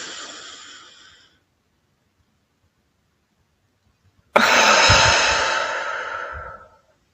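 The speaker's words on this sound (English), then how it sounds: "One last inhale." A breath trails off and fades into silence, then after a pause a long, deep, airy inhale begins sharply and holds steady for about two seconds, close and loud with no words.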